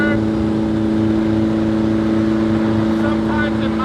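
A Volvo 240's engine drones steadily while cruising at about 3,400 RPM, roughly 75 to 80 miles an hour on the highway, a constant loud hum with road noise and no breaks.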